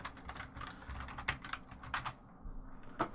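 Quick, irregular keystrokes on a computer keyboard, close and fairly quiet, clustered in short bursts with brief pauses between them.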